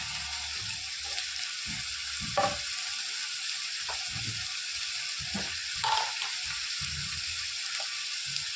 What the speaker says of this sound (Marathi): कांद्याचा कलर थोडंसं भाजून झालं आता टाकणार आहोत टमाटर आणि थोडीशी कोथिंबीर